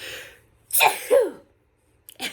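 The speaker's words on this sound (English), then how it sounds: "I can't stop sneezing" A single loud sneeze in two sharp bursts, close to the microphone, followed by a faint rustle and a brief soft sound.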